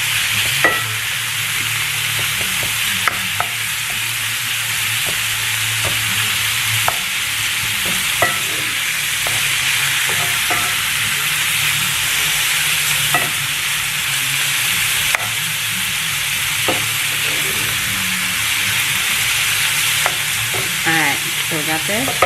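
Ground beef browns in a frying pan with a constant sizzle while a utensil scrapes and breaks it up, giving a run of soft irregular knocks and stirring sounds.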